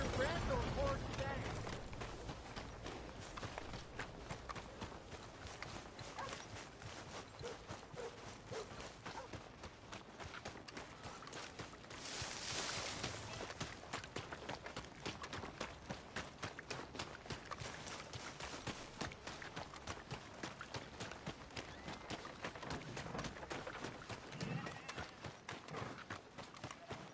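Horse hooves in Red Dead Redemption 2 keep up a fast, continuous rhythmic clatter for nearly half a minute, quiet and steady, with a brief burst of noise partway through and speech heard faintly over it.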